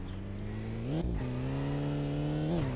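A BMW engine revs in the My Summer Car video game, a steady low harmonic drone that climbs in pitch twice as the throttle is blipped, loud and continuous with no voices.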